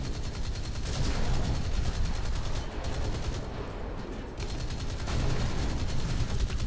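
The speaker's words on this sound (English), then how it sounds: "We'll try those 76mm. Just some blind shots over in yonder." In the War Thunder naval beta, 76mm ship guns fire in rapid, dense volleys, a continuous loud roar of overlapping booming shots that barely lets up.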